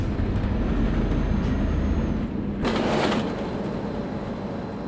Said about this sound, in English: Is that like a train or something?